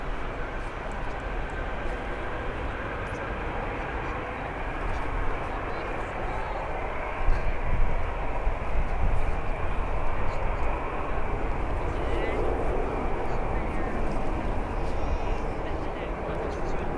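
An EasyJet airliner departs Birmingham airport, a broad continuous engine roar that swells slightly midway and holds steady, with a voice talking over it.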